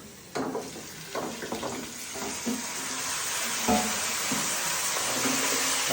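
Meat pieces hit hot oil already holding browned fried onions and spices, bursting into a loud, steady sizzle that fills the pan, with a few clattering stirs near the start.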